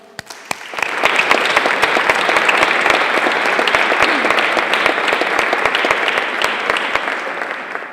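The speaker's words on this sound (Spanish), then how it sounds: "Un fuerte aplauso para la doctora Young-Ju Choi." Sustained audience applause at an academic conference on Spanish in Asia, a dense steady wash of many hands clapping that swells quickly and holds loud for several seconds without talk.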